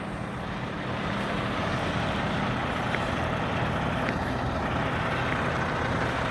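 A truck engine idles steadily after being started, a low continuous rumble at moderate volume with faint intermittent clicks over it and no talking.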